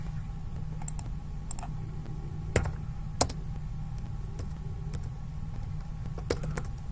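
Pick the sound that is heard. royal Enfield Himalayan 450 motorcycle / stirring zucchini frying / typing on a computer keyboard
typing on a computer keyboard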